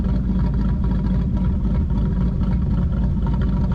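Lumpy, uneven idle of a 2012 Ford Mustang Boss 302 V8 through stock side pipes, with a rhythmic low-end chop, close and steady throughout.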